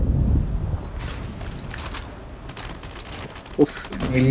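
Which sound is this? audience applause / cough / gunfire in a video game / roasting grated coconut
gunfire in a video game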